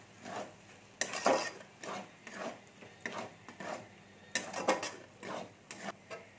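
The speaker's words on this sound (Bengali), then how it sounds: "একটু নেড়ে নিচ্ছি" A spoon stirring chili powder and spices in a pan for a vegetarian chana masala, giving repeated soft scraping strokes in an irregular rhythm at close range, fairly quiet with light clinks between strokes.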